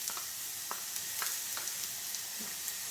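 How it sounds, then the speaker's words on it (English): Garlic sautés in a teaspoon of oil in a pot, giving a soft, continuous sizzle with scattered small pops, quiet and close. "I'm gonna add in my garlic. Make sure everything is sauteed properly."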